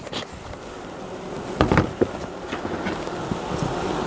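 A steady drone of honey bees buzzing in a hive being smoked surrounds the recording, with louder individual buzzes passing close and some rustling handling noise.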